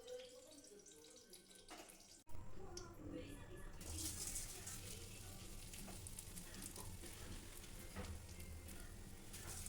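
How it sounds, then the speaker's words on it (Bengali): Flattened rice hits hot ghee in a wok and breaks into a loud, steady sizzle that carries on without letup, while someone talks over the frying. "এবার ভালো করে ভাজতে থাকবো যতক্ষণ না চিড়েটা কালার চেঞ্জ করে"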